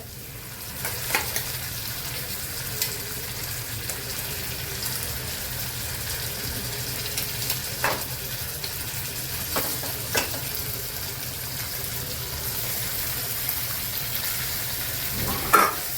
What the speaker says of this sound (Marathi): तेलावरती चांगलं परतून घेऊया। यामध्ये जे उकडून घेते ती वांगी घालून घ्यायचे।